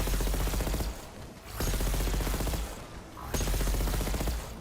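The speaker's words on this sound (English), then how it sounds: "Shoot off the guns for them." Rapid automatic gunfire from Horizon Forbidden West on PS5 rattles out in dense, loud bursts, pausing briefly twice before resuming at full intensity.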